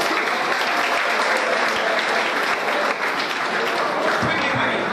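Audience applause at a higher education programme event, a dense, steady wash of clapping filling the hall for the whole stretch with no pauses and no talk heard over it.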